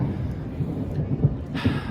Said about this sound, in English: We just had a really pretty big thunderstorm that passed through this area. I had to get under shelter for about 15 minutes, and you can hear the thunder now.